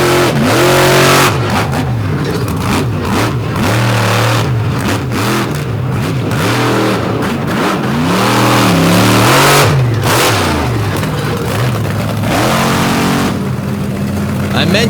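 Race cars in a final-round endurance race in Tennessee accelerate and rev hard, loud and continuous engine tones rising and falling throughout, with a commentator talking over them.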